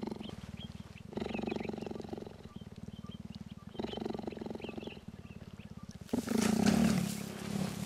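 A captive cheetah grumbles in annoyance with a low, rapid pulsing growl in repeated bursts of a second or two, close and steady, ending in a louder rasping snarl with no talk over it.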